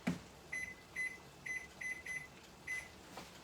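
A kitchen oven timer being set gives a run of short, clear electronic beeps, six evenly spaced chirps close by in a quiet room with no talking.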